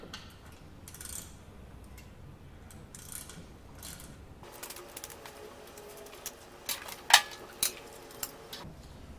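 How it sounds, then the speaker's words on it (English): A 3/16 hex head ratchet loosening the center bolt of an air filter on a 2014-up Harley-Davidson Sportster, with quick clicking ratchet bursts, near and moderately loud, growing busier toward the end. "we're going to use this 3/16 hex head ratchet to remove this center bolt off of the air filter"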